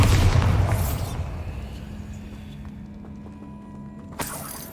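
A Bombarda blasting spell from Hogwarts Legacy lands as a heavy, close boom with a low rumble that fades over about a second, followed by a quiet ambient hum and a second, smaller thump near the end.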